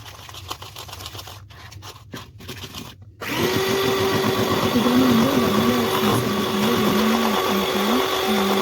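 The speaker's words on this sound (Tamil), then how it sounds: "பவுடர் சுகர் சேர்த்ததுக்கப்புறம் அதையும் வந்து ஒன் ஸ்பீட்லேயே வச்சு நல்லா பீட் பண்ணிக்கலாம்" Electric mixer beating powdered sugar into cookie dough for bakery-style coconut cookies, running at one steady speed with a continuous loud whirring hum that starts abruptly after a few quieter scraping moments.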